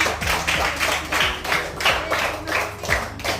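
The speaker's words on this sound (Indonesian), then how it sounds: "beri tepuk tangan untuk penampilan" Junior high students in a classroom applaud a group's performance with brief, fairly rhythmic clapping that comes in pulses at moderate volume, accompanied by some low thumps.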